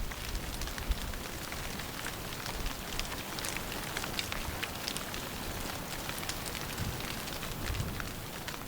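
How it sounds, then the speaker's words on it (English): Rain falling in the Vosges Mountains of France, a steady, dense hiss of drops pattering on surfaces with no pauses, fairly soft and even, with no voices. "The adult birds must protect their young from the rain and cold"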